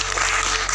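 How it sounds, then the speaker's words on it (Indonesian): Applause from an audience celebrating Noorca M. Massardi's 72nd birthday at a book launch and poetry reading, a steady, dense clapping that fills the whole brief moment without pause. "Boleh tepuk tangan dulu buat Mas Norka."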